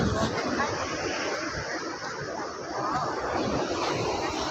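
Sea surf washing onto the shore at Madhavpur beach, a steady broad roar with wind buffeting the microphone and faint crowd babble in the background, continuous and fairly loud throughout.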